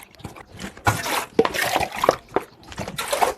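Soaked, swollen gond katira (tragacanth gum) is strained in a kitchen, giving a series of wet, squelching sloshes and liquid pours in uneven bursts, close and moderately loud.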